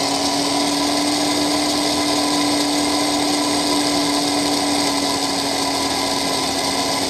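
A Tomy Turbo narrow-chassis SRT toy car motor runs continuously, a loud, steady high-pitched electric whine with a buzzy hum that never varies, close up and without voices.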